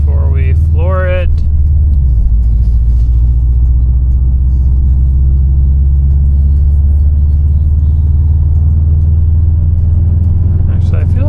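A 2018 Subaru STI sits on a virtual dyno, its engine producing a loud, steady low rumble that holds near constant throughout, with brief talk at the start.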